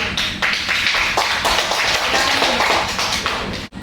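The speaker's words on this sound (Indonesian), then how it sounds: "Beri aplaus untuk kelompok 1." A class claps for group 1, a dense burst of applause that keeps a steady pace and stays loud throughout before cutting off abruptly.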